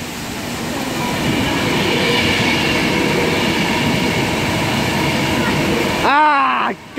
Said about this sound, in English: ready to pass through now is going to be a Virgin Pendolino for Liverpool Lime Street